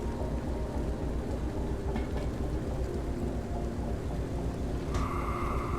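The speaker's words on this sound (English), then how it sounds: "right now we're playing the train game." A freight train runs in the Derail Valley simulation game: a steady, loud rolling rumble and hiss throughout, with a sustained metallic squeal rising near the end. No one speaks.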